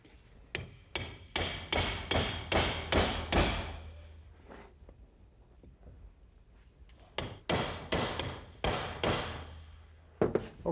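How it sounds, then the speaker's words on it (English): Repeated hammer blows drive a tool onto the friction ring of a car's CV joint boot, two bursts of rapid, evenly spaced metallic strikes separated by a quiet pause, loud and close. "now we'll hit it with a hammer to drive it all the way home"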